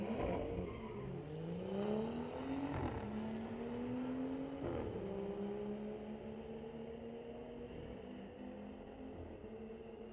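Street-legal BMW drag racing down the strip at a raceway, engine note climbing steadily through gear changes as the car accelerates away, loud and continuous with no talk.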